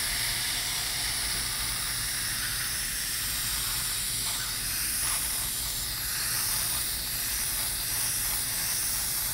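Airbrush spraying paint as a base coat for a leopard print, a steady continuous hiss running throughout at an even, moderate level with no pauses.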